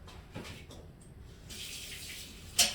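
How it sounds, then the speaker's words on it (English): Tap water runs into a sink while raw shrimp are rinsed, a soft splashing flow near at hand that swells louder in the second half, ending with a brief sharp clatter. "I'm going to rinse my shrimp out"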